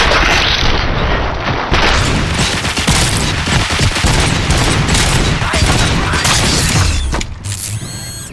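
Sustained gunfire in RoboCop: Rogue City, loud and continuous with rapid overlapping shots and mechanical clatter, easing slightly toward the end.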